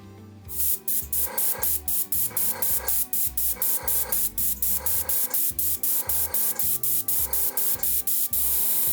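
An airbrush sprays paint in quick repeated pulses while petals are painted, a close hissing spray switching on and off in a steady rhythm of short bursts with no talking.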